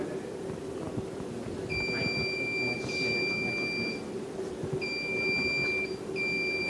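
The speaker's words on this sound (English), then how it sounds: "So be ready with your buzzers." Quiz buzzers sound at a conference quiz contest: a sustained electronic beep of about two seconds, then two shorter beeps, clear above a steady hum of room noise, with no talking.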